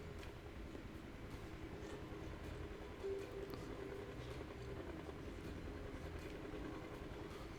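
Steady rumble and clatter of a train rolling along rails in Final Fantasy 7, a continuous mid-level drone with a faint tonal whine, no voices.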